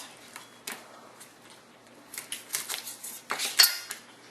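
A knife cutting through chicken wings for canned hot wings, with sharp metallic taps and scraping clicks against a board, sparse at first then busier and louder toward the end, close with no talk.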